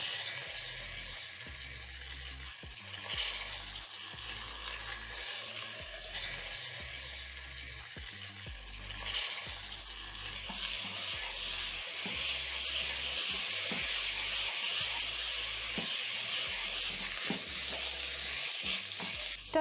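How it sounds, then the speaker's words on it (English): Washed rice tossed and stirred in hot aromatic cooking oil with salt and spices, a steady frying sizzle punctuated by scraping and rustling strokes, growing denser and louder midway, close and without talking. "toss the rice for around a minute together with the aromatic cooking oil"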